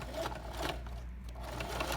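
Sewing machine stitching and pivoting around a corner, short bursts of rapid needle clatter separated by a brief pause, close and moderately quiet, alone.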